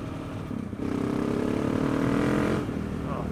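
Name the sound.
KTM 690 Enduro R motorcycle engine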